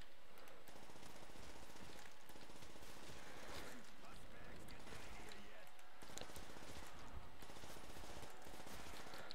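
A PPSh submachine gun fires rapid, continuous bursts in a Call of Duty zombies map, with dense rattling gunfire in long runs and short pauses.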